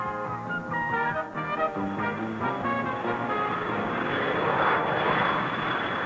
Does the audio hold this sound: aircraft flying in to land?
yes